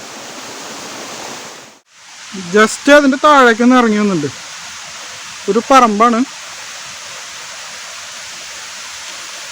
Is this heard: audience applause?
no